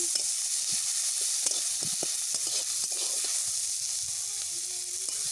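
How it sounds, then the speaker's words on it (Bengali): Onions fry in a little oil in a pan for a fish curry, giving a steady close sizzle with occasional stirring scrapes and no talking. "তার জন্য পেঁয়াজটাকে ভালো করে লাল লাল করে ভেজে নিচ্ছি আগে।"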